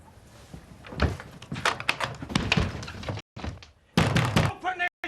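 Heavy pounding on a door in a British soap drama scene: a run of loud, repeated thumps and bangs, mixed with someone shouting over them.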